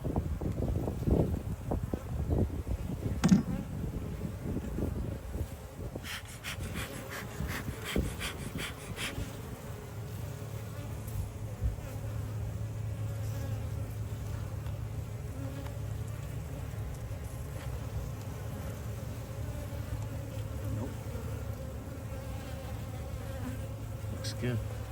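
Honey bees buzz steadily throughout an open beehive inspection, a dense, close, continuous drone with a few brief knocks and handling sounds early on.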